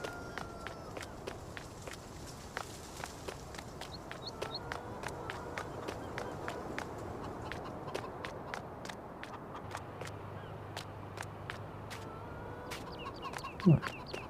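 Chickens cluck quietly in Farming Simulator 19, with soft scattered calls under a steady run of rhythmic footsteps and someone talking occasionally.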